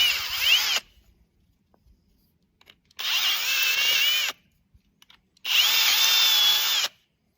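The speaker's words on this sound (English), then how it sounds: "I'm gonna widen them up, bore them out with a 1/4 inch bit" A power drill with a 1/4 inch bit bores out pre-drilled holes in a plastic trash can, sounding as three loud, steady whirring bursts of a few seconds each with silent pauses between.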